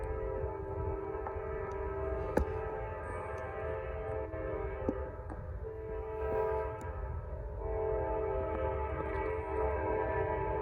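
A Norfolk Southern northbound freight train rolls steadily past nearby, a continuous loud rumble of wagons with horn-like tonal droning throughout, no voices.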